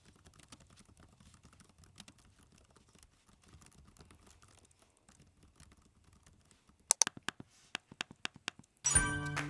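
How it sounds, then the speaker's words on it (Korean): An LG gram Pro laptop's soft keyboard tapping gives way to louder, sharper trackpad clicks in an irregular burst, ending in a dense clattering flurry, all close and dry in a quiet room. "트랙패드는 소리가 좀 큽니다."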